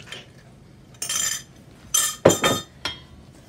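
Metal utensil clinking against a mixing bowl while Irish soda bread ingredients are stirred, a few separate scraping and knocking bursts with quiet gaps between.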